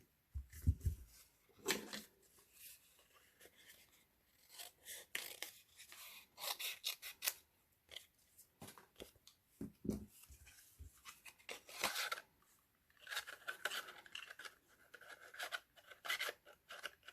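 Scissors trim the bottom of a punched paper hat in quiet, close snips and rustles of paper, scattered irregularly with brief pauses between them.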